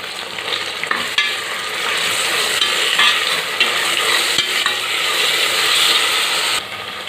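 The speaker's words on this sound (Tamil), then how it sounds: "இதை கிளறி விட்டுடலாம்" Green chilies, ginger garlic paste and mint leaves being stirred in a hot pan, a loud steady sizzle with scraping strokes and occasional clicks of the spoon.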